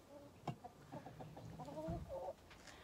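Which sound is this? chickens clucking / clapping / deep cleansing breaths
chickens clucking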